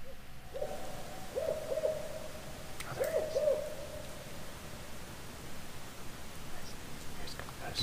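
Several low owl hoots come in short paired bursts, one set near the start and another a few seconds later, faint over a steady hiss of night ambience at what seems fairly close range.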